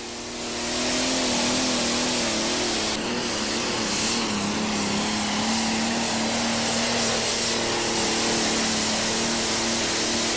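A John Deere pulling tractor makes a loud, sustained engine roar with steady tonal whine during a run at a 2005 ATPA tractor pull in Salem, Indiana, heard close and continuous with no talk.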